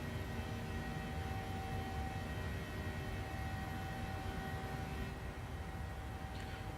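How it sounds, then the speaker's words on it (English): Boeing 737-800 taking off in the PMDG flight simulator, a steady, fairly faint jet engine roar with a persistent whine tone, continuous and unchanging without talk. "Look at that beautiful takeoff there."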